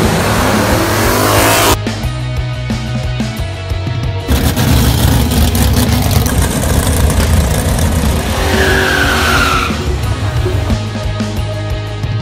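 A supercharged 2003 Ford Mustang with a factory supercharger revs hard and loud, its engine roar sustained and rising in pitch across the clip, with a brief tire squeal partway through.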